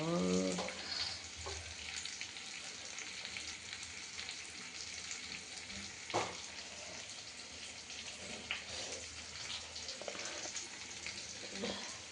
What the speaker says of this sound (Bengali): জল ফুটছে, উড়িয়ে বাবা রে কি টকবক করে ফুটছে